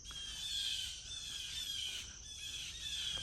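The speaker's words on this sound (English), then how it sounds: "These birds are fighting something." Birds in the woods squabble with shrill, high squawks and chirps that keep going over soft outdoor background noise, moderately distant, with no talking.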